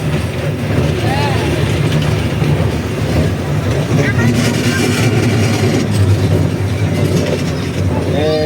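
A toy train ride at the Bangladesh National Zoo in Mirpur rumbling along its rails, a loud continuous low rolling drone with mechanical clatter, and children and adults talking over it.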